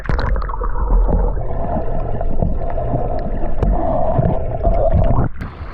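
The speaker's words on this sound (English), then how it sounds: "we're going to see what it sounds like when I come out of the water with the camera now" An action camera rises out of water, giving a steady gurgling, sloshing wash that ends abruptly near the close as the lens clears the surface.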